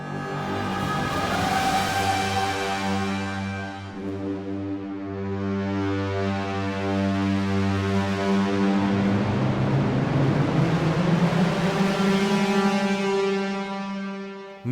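A sustained orchestral hit sounding on G from the Vienna Smart Hits sample library swells into a long, rich, horn-like tone that holds steady for about fifteen seconds, loud and unaccompanied.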